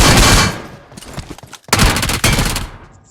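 Video game gunfire crackles in loud, rapid bursts of automatic shots, cutting out briefly and then resuming in a dense volley over about three seconds, with no talk.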